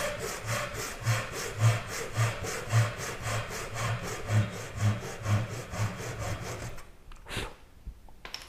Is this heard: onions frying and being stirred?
no